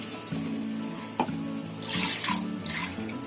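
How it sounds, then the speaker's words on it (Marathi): Water is poured into a cooking pot on a gas flame turned to full while making surmai (seer fish) curry, a splashing pour over a steady low hum. "आता त्याच्यामध्ये पाणी ओतायचं."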